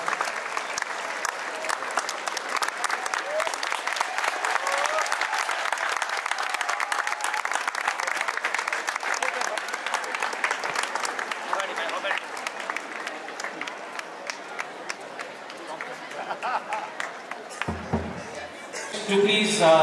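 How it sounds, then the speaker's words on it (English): Crowd applause for the chief guest after a flag unfurling at the opening of an inter-school sub-junior football tournament, dense steady clapping for most of the stretch, fading late as a voice comes in at the end. "him a big round of applause."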